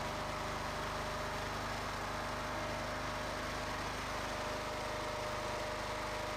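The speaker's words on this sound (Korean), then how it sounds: "현재 파워팩의 엔진은 13마력 가솔린 엔진을 사용하였으며" A 13 hp gasoline engine drives a portable hydraulic pump power pack, a steady, continuous mechanical drone with an even buzzing hum from start to finish.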